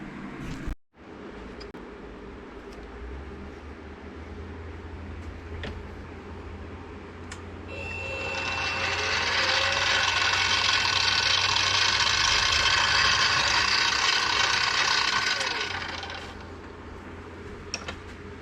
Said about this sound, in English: Let's get this drilled out first.